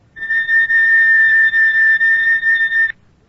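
A high, piercing oscillator tone at 4,000 cycles per second, like a whistle, sounds steadily for nearly three seconds with slight wavering in level, then cuts off cleanly, with no voices.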